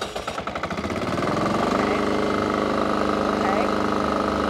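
A small lawnmower-like engine on a dirty manor tennis court sputters with a few quick firing pulses, then catches and settles into a steady, fairly loud running drone, with people talking over it.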